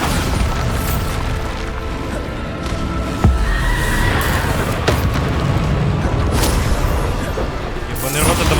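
The Bombarda blasting spell explodes in Hogwarts Legacy within loud, continuous battle noise, with a sharp thudding blast about a third of the way through and rumbling impacts around it, and game voices mixed in.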